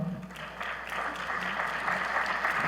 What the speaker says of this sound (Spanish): Vamos a recibir con un caluroso aplauso al señor Álvaro Pérez.